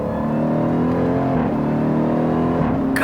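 A 2018 Jeep Trackhawk with a 707 hp engine and dual-clutch paddle shifting, heard from inside as a loud, sustained engine drone that dips and rises with rev-matching blips on downshifts.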